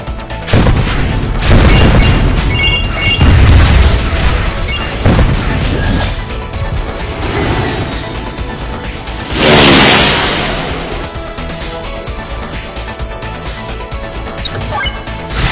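An erosion missile fires and explodes in the video game Win Wing, making loud crashing blasts that layer over constant game music and effects.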